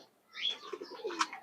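A pigeon at a loft gives a brief, soft coo mixed with a couple of small chirping notes, faint and fairly close in an otherwise quiet space.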